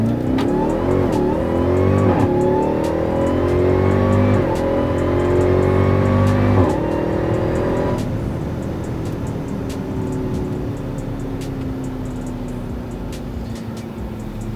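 An 1100-horsepower Jeep Grand Cherokee Trackhawk launching off the foot brake at about 2000 RPM, its engine roaring loudly up through several gear shifts before easing into a steady cruising drone, heard from inside the cabin with no talking.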